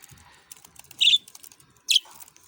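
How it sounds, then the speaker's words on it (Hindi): Two short, high chirps from budgerigars stand out over faint background rustling, quiet and close, indoors at home. "तो ये हैं जी ऑस्ट्रेलियन तोते, बहुत ही प्यारे हैं छोटे छोटे।"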